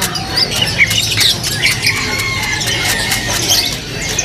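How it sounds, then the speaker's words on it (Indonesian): A black-throated canary hybrid sings in high, bright chirps and trills, with other small caged birds nearby, under a steady background hiss and faint voices. "Black throat kenari. Hybrid persilangan ya?"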